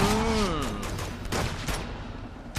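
Rapid gunfire in Uncharted 2: Among Thieves, a dense run of shots with a sweeping tonal sound early on, steady and fairly loud throughout, ending with a sharper burst.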